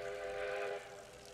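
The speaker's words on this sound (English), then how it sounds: "Oh, the train! I can hear it!" A steam train from the film Back to the Future III approaches with a sustained whistle-like tone over a rumbling rail background, fairly faint and brief.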